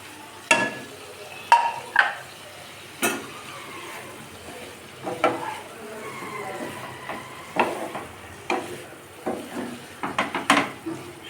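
Fried potatoes and drumstick pieces being tossed in a pan for a mustard-paste chorchori, with repeated sharp scraping stirs and clinks over a soft background sizzle.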